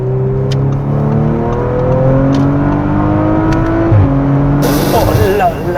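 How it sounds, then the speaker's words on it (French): A car revs hard through its gears with paddle shifters, the engine pitch climbing in several rising sweeps with a gear change partway, loud and close from inside, with a voice speaking briefly. "T'entends le passage de rapport, là?"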